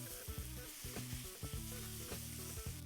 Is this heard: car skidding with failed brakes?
no